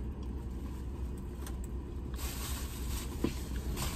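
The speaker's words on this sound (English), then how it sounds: "now I'm about to go driving" Car interior road noise while driving across town, a low steady engine and tire rumble throughout, moderately quiet, with a brief small knock near the end.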